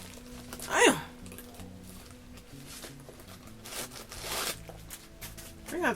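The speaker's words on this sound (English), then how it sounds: "it's just the one zipper. But opens up like that." A single zipper on a Coach cherry print crossbody purse is pulled open in one quick, close rasp, with soft handling rustles of the bag afterward and another brief zip at the end.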